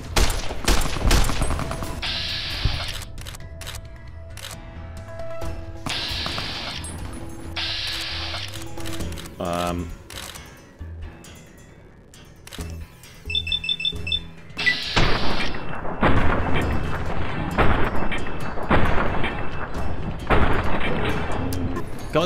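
Gunfire in the video game Fallout: New Vegas, a loud, dense fusillade of repeated shots and bursts filling most of the stretch, with mechanical clicks and a brief lull midway before heavy firing resumes.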